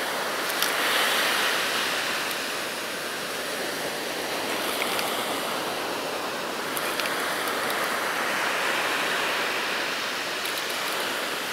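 Ocean surf washes continuously onto an isolated beach below a cliff, a steady broad roar of breaking waves heard alone with no voices.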